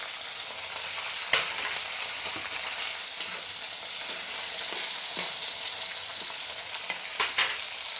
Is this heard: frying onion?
yes